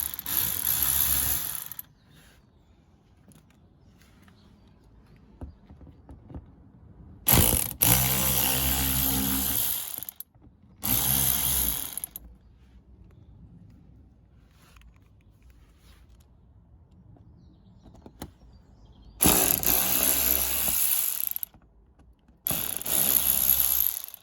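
Ratchet wrench loosening screws on a Seat Ibiza 1.4 MK3 during a service, heard in several loud bursts of rapid clicking separated by quiet pauses, no talking.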